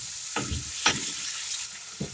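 Tomato pulp sautéing in a pan, a steady sizzle with a few sharp stirring scrapes of the spoon through it, close and moderately loud, no voices.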